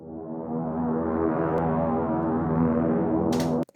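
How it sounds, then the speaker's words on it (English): Analog-style sawtooth synth pad sustaining a rich, buzzing chord, loud and steady for several seconds, then cutting off abruptly with a brief tail. "Pretty basic, kind of like analog saw pad in here."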